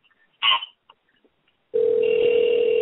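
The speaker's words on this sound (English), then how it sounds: "we're going to try and get Deontay Wilder on the phone one more time" A telephone call to a boxer placed during a radio show: a short click and burst of noise, then a loud, steady dial tone holding close and alone after a brief quiet gap.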